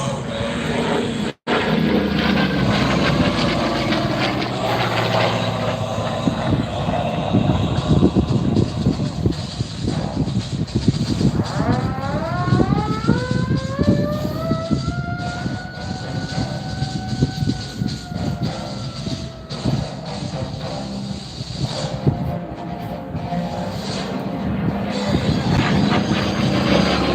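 A Corsair warbird flying a vertical Cuban 8 at an air show, a loud continuous piston-engine drone rising and falling in pitch as the aircraft loops, with the crowd and public address faintly beneath.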